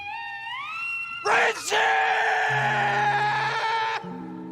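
The famous scream from the film La Bamba: a rising, strained wail that bursts into a loud, sustained high-pitched shriek for a few seconds, then cuts off as low tones take over.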